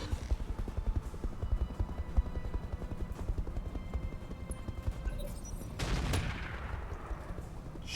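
Mech weapons firing in BattleTech RogueTech, a continuous rattle of rapid autocannon-style shots with steady thumping rhythm, and a heavier blast near the end that rings out and fades.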